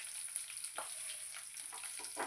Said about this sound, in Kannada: ಉಳ್ಳಾಗಡ್ಡಿ ಅವಲ್ವಾ ಗೋಲ್ಡನ್ ಕಲರ್ ಬರತನ ಚಂದ ಫ್ರೈ ಮಾಡ್ಕೋಬೇಕು